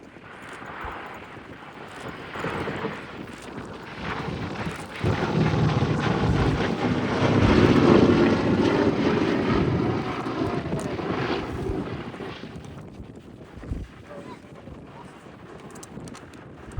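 A B-17 bomber flying past at an air show, its piston engine drone swelling to a loud peak midway and fading again, with wind buffeting the microphone.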